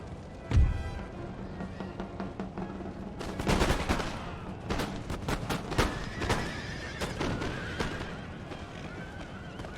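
Massed musket volleys in an Empire: Total War battle crack loudly and repeatedly, in ragged bursts of overlapping shots, mixed with horses neighing and galloping hooves.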